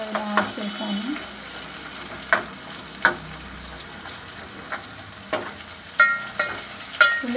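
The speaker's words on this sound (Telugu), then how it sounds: "ఉల్లిగడ్డలు బ్రౌన్ కలర్లోకి వచ్చేదాకా వేయించుకోవాలి" Onions fry in a pan for a village-style mutton masala curry under a steady soft sizzle, while a spoon stirs and scrapes the pan in scattered sharp clinks and knocks.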